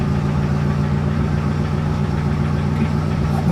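A Toyota Kijang Kapsul engine idles steadily with a low, even rumble, close and fairly loud, holding a constant tone throughout with no talk.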